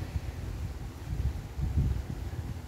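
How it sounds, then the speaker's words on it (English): Strong wind gusts roar against the microphone outdoors on a hot day, a continuous low rumbling buffet that swells and dips with no voices. "Even though it's really windy, it's really hot."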